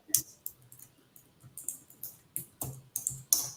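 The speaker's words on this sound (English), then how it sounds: "You can hear her typing." Someone types on a computer keyboard, a quiet, close run of irregular key clicks and taps with short pauses between bursts.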